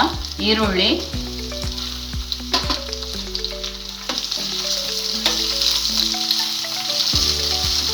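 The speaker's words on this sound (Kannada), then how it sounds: "ಈರುಳ್ಳಿನ ಚೆನ್ನಾಗಿ ಫ್ರೈ ಮಾಡ್ಕೊಳ್ಳಿ." Onions sizzling and frying in a pan for a bendi egg masala, a steady crackling hiss with scraping stirs from a spoon, close up and moderately loud, with faint background tones and no talking.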